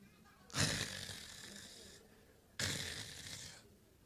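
A preacher imitates a man snoring: two long, loud, rasping snores separated by a short pause, each sounding like a deep throaty inhale that tails off, with no other talk.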